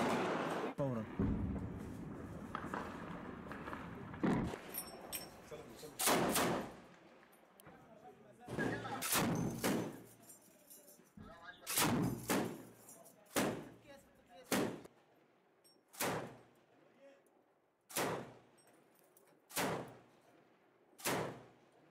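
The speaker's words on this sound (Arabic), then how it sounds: "نشاهد عمليات قصف من جديد" Repeated sharp booms of artillery shelling in Syria, where government forces are fighting over a housing complex, each blast landing as a sudden broadband crack with a decaying tail, spaced irregularly and growing more frequent later, with talk over the earlier part.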